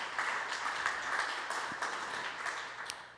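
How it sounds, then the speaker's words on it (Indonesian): Church congregation applauding during a Sunday worship service, a fairly faint, steady wash of many hands clapping that carries on for about three seconds with no speech over it. "tepuk tangan dulu buat Tuhan"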